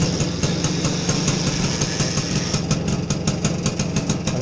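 A BSA Bantam 175 D10 motorcycle's small single-cylinder engine runs at a loud, close idle with a rapid, even putter and a steady mechanical rattle throughout.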